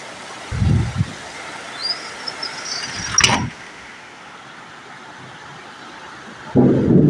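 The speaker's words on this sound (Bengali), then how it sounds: "আপনারা দেখতে পাচ্ছেন মুসলধারে বৃষ্টি হচ্ছে" Heavy torrential rain during a storm on a road in Khulna, a steady dense hiss with low rumbles and one sharp thunder crack in the middle, with no talking.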